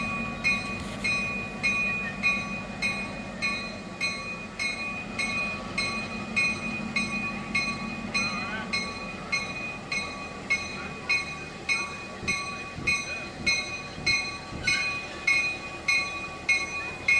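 Freight train lash-up with an ES40DC locomotive leading and a pair of SD42s trailing, rolling past steadily with rhythmic wheel clatter and a sustained engine drone, near and fairly loud, no horn.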